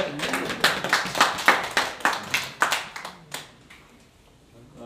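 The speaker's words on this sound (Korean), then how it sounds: "한효정 이사장님 박수 한번 보내겠습니다" A small audience at a year-end association gathering claps for an honoured guest. About a dozen distinct claps sound in a quick, even rhythm, then fade and trail off into quiet.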